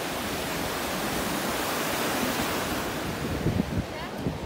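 Stormy sea waves crash steadily onto the shore in rain, a loud continuous roar of surf mixed with wind buffeting the microphone.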